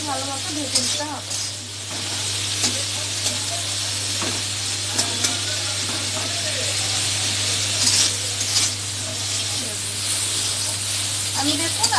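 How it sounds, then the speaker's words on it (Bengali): Potatoes frying in a small amount of oil in a pan with salt, a steady soft sizzle with occasional sharper crackles and stirring scrapes, heard under a low hum. "আমি দেখুন আলুটা ভেজে নিচ্ছি এরকম করে"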